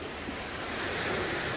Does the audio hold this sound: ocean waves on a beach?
yes